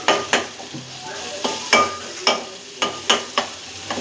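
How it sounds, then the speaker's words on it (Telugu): Tomatoes being mashed in a frying pan for egg curry: a steady run of close, rhythmic thumps and scrapes of a spoon pressing into the pan over a soft sizzle, with no talking. "టమాటాలు ఇది మంచిగా ఇలా మ్యాష్ చేసుకొని"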